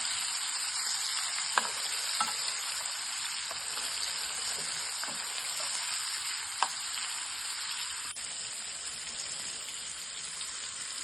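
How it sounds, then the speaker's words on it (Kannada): Marinated chicken with curry leaves fries in oil with a long, even, fairly quiet sizzle and scattered tiny pops, resembling light rain, with no voices. "ಎಣ್ಣೆಯಲ್ಲಿ ಈ ಥರ ಫ್ರೈ ಆಗಬೇಕು"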